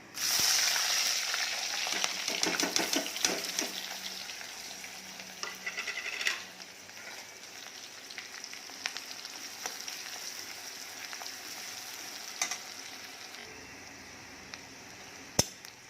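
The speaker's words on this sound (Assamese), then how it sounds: "ইফালে কচুৰ তৰকাৰীখিনিত এয়া পিঁয়াজ, জলকীয়া আৰু নহৰুখিনি দি লওঁ" Onion, green chili and garlic frying in a pan of oil for taro curry, giving a loud initial sizzle that settles into a steady crackling hiss with occasional stirring clicks.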